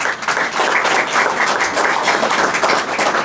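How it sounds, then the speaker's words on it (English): A round of applause from teachers and students welcoming a guest at a National Voluntary Blood Donation Day event, steady, full clapping filling the hall without pause. "let's extend a warm welcome to our guest with a big round of applause"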